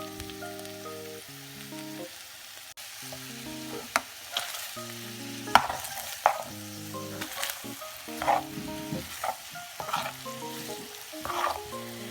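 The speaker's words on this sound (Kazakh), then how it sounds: "Енді осының үстіне біз саңырауқұлағымызды салып, әрі қарай жақсылап қуыратын боламыз" Chicken pieces and mushrooms fry in a pan for a pasta dish, giving a steady close sizzle broken by repeated sharp scraping and clacking strokes of stirring, with no talk.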